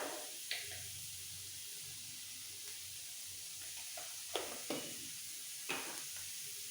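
Ridge gourd with spices and slit green chillies sautéing in a pan for a poppy-seed dish: a steady soft sizzle with a few sharp scrapes and clinks of stirring, close up and with no talk.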